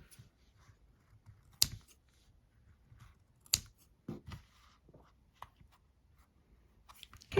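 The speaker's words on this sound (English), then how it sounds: "And then I'll cut those and then we'll be done." Scissors snip yarn ends on a finished crocheted amigurumi toy: two sharp, distinct cuts a couple of seconds apart, close and fairly quiet, with small handling clicks and rustles between them and no talking.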